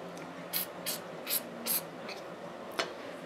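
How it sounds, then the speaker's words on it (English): CLP lubricant sprays down the barrel of a Mossberg 500 shotgun in four short, close hissing bursts at an even rhythm, followed by one fainter quick puff. "I actually use CLP, and I'm just going to spray it down the barrel"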